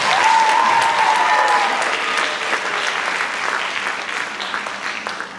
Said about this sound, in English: can everyone please give them a big round of applause